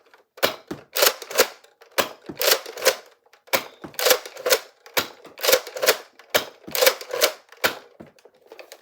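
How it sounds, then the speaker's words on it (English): An unmodified Nerf Deploy blaster fires Elite and Wafflehead foam darts, giving a string of sharp, close, springy snaps, roughly fifteen shots in quick uneven bursts with short pauses between them, and no voices. "here is a completely unmodified wet-out deploy, shooting a couple of elite darts and a couple of wafflehead darts"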